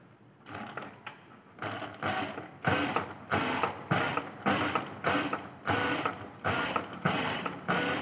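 A sewing machine stitches along a quarter-inch folded fabric edge in repeated short bursts of rapid mechanical clatter, about ten runs separated by brief pauses, close and clear with no speech.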